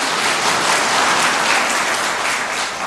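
A church congregation bursts into loud, steady applause, with many hands clapping in a thick, continuous roar that barely varies for a few seconds.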